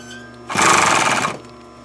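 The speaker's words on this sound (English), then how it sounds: "I'm going to sew just inside or to the left of the stitching that we did just a minute ago" A sewing machine runs a short, steady burst of stitching on a triangle bag, loud and close, starting abruptly and stopping after under a second, with a quiet pause on either side.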